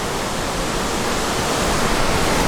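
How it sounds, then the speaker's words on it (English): Rushing waterfall in spring in Norway, with snow lying around it, heard as a steady broadband roar that stays loud and unbroken with no voices. "Waterfall and snow!"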